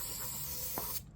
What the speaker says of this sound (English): this Eastwood internal frame coating. So I'll spray that in there